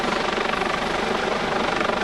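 A US Coast Guard search and rescue helicopter is heard during an airshow rescue demonstration. Its rotor roar is loud and steady, with a continuous thudding whir throughout and no talk.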